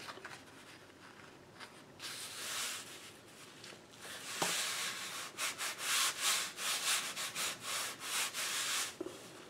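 Fabric is folded and pressed down over the top of a book spine, making soft rubbing and brushing strokes that grow into a series of rhythmic, close swishes, with no speech.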